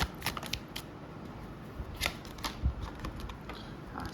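Tarot cards slide and shuffle out of a deck as one more card is drawn, giving soft papery flicks and light taps up close, with no talking.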